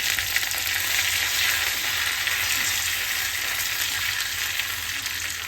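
Curry leaves and dried red chillies crackle and sizzle steadily in hot oil while cooking Kerala mango pulissery, a constant bright hiss with no voices.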